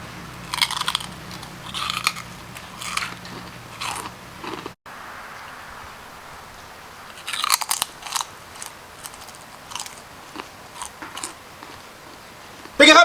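Loud, crisp crunching bites of crispy enoki mushroom rice crackers repeat irregularly, close to the ear, with brief pauses and faint voice sounds in between.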